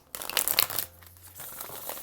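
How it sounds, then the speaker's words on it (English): A brief riffling flutter of cards being shuffled, crisp and close, followed by a quieter soft rustle. "this deck shuffles so nicely"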